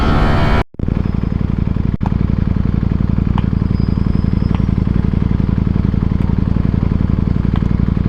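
Ducati motorcycle engine at close range, a loud, dense rhythmic pulse that holds steady for several seconds after a brief dropout near the start, with no voices.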